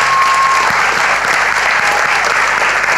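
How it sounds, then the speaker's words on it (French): An audience at a singing contest gives steady, loud applause to the singer Bana, a thick wash of clapping that holds at an even level throughout. "Applaudissez Bana bien fort"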